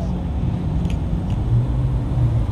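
At a car meet, a car engine rumbles steadily up close, a low continuous drone with a slight swell in the middle and no clear sharp rev peak.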